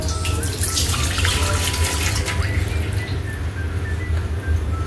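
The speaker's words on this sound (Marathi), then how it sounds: "पाणी ओतलेलं आहे आपण" Strained jaggery water pours into a pot in a steady, continuous splashing stream, close and fairly loud, with no talk.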